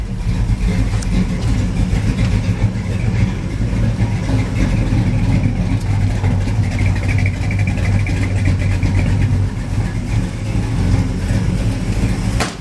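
A Chevrolet S10 pickup's engine idles steadily, a loud continuous low rumble that holds even and unbroken throughout.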